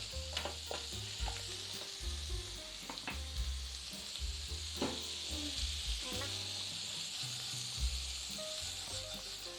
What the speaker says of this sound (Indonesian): Kita tumis udangnya ya sampai warnanya orange ya.